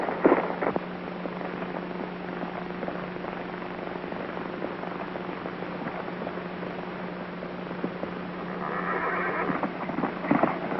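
In a 1935 film soundtrack, a horse neighs loudly near the start and again near the end, with clip-clopping hooves between the calls. The recording is old, thin and hissy.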